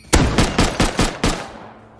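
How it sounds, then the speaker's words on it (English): Six sharp gunshots ring out at a steady, fairly quick rhythm in a CSGO or Rust match, each a loud broadband crack with a short tail, the last fading into quiet. "his teammates are shooting at us"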